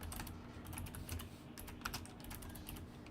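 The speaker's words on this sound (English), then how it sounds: "So excuse the typing noise." Fingers type quickly on a computer keyboard, a quiet, close, uneven patter of clicks running continuously with no voices.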